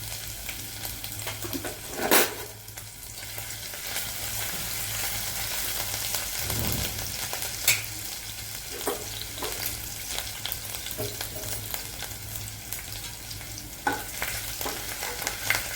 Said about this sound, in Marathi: आता आपलं तेल गरम झालेलं आहे। आपण त्यामध्ये अद्रक लसूणची पेस्ट टाकूया।